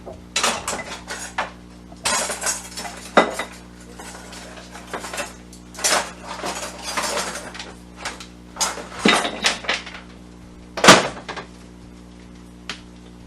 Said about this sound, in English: I'm going to take a spatula so that I can move everything over